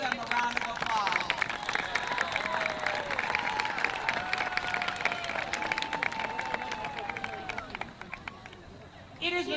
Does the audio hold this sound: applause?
yes